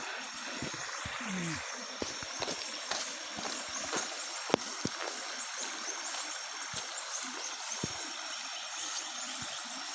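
Water streams steadily at Kagbuho Falls, a faint, constant rushing broken by scattered small knocks and splashes.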